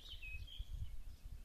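A small bird chirps outdoors with a thin high whistle that slides and wavers across the clip, faint and somewhat distant, over low rumbling background noise.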